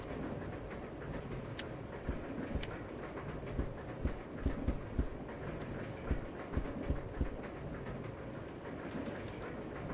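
A fast-moving train in the video game Resident Evil 0, a steady dense rumble of rail noise with a run of sharp clacking wheel hits in the middle, continuous throughout with no talk.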